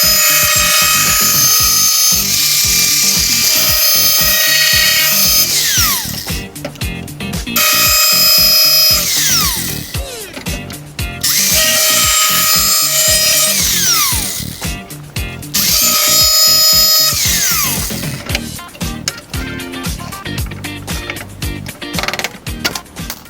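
A cutting wheel grinder slices through the fender panel of a 1965 C10 pickup with a loud, high, steady whine. It runs in four long passes, each ending as the wheel spins down before starting again.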